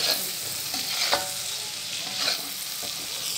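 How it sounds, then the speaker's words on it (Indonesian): Scrambled eggs and sausage stirred in a frying pan, with a spatula scraping and clinking in a few irregular strokes over a steady close sizzle, no talking. "Kita aduk saja seperti ini."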